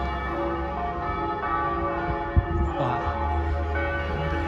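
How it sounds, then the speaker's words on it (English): Church bells ring steadily at an abbey in Brantôme, a loud, sustained tolling that fills the space with layered, resonant tones and no voices over it. "With those bells ringing, I won't even know if you can hear me."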